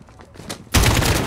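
Loud burst of automatic gunfire in the Call of Duty video game, starting abruptly after a quieter lead-in and continuing as sustained rapid fire close by.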